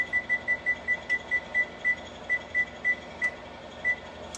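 A timer beeps in a steady run of short, high electronic tones, about a dozen in quick succession, then a few more spaced further apart, over faint room noise.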